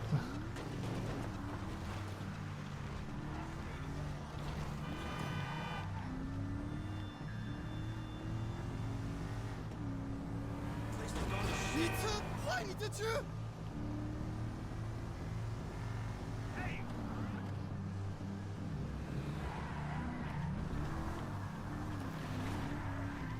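A cheap car's engine drones steadily while driving in GTA 5, a continuous hum with shifting revs and a few louder bursts of rattling and crashing noise partway through.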